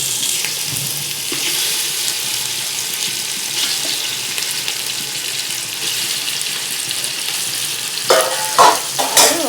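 Large pieces of chicken, with mutton, fry together in oil for mixed biryani, a steady frying hiss that ends in a few louder clattering stirs.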